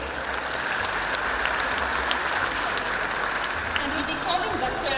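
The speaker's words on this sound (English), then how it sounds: "you should give your parents, first of all, a big round of applause" A graduation audience at Madar School's 2023 ceremony claps for the parents, a dense, sustained round of applause from a large crowd filling the hall.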